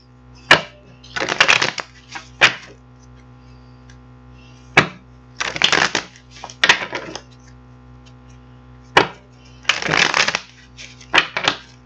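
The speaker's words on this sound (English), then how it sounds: "we're going to get this deck over here together and get them shuffled up" Bursts of riffling and soft slapping as a deck of tarot cards is shuffled several times, close up, with quiet pauses and single taps between.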